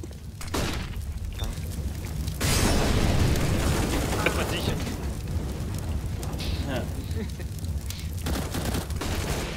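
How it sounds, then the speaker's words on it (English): A flashbang grenade goes off in a Counter-Strike match played on a train map, a loud burst followed by a sustained ringing wash that lingers for several seconds over game noise. "Deploying flashbang"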